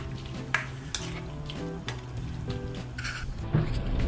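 Squid adobo with brown pepper sizzles and fries steadily in a pan while a utensil stirs and scrapes it, producing repeated clinks and knocks over the continuous crackle, close up and with no talking.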